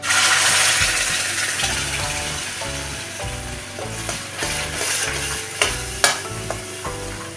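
Ground chili paste frying in ghee for a bitter gourd side dish, with a loud, steady sizzle and the scrape and clink of a spoon stirring the pan throughout.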